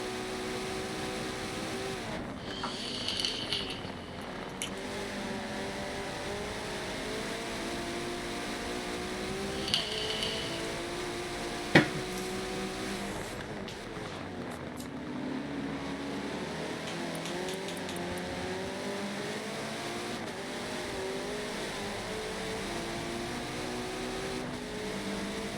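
A race car engine in a sim-racing endurance event at Silverstone revs and climbs through the gears, its pitch sweeping up and dropping back at each shift. The engine note holds steady and close throughout, with brief sharper bursts and no talk.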